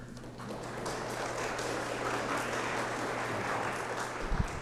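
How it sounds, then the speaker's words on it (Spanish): Steady, dense applause from an audience at an electoral school event, welcoming a speaker, sustained at an even level for several seconds with a low hum beneath. "Le brindamos un fuerte aplauso."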